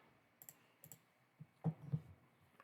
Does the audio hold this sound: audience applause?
no